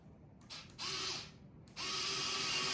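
Power driver tightening screws into wood while installing pull-out cabinet drawers, two whirring bursts with a short pause between, the second running longer, fairly close and heard alone.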